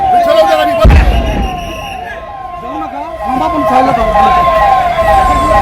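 Fire engine sirens wail with rising and falling sweeps at a blaze involving gas cylinders, several brigade trucks arriving together, loud and close with engine rumble and a sharp knock, people shouting beneath.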